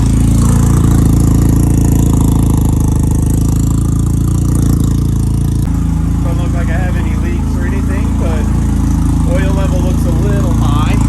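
A repaired snowmobile engine running after a fix, a loud steady droning idle close by throughout, with a person talking over it in the second half.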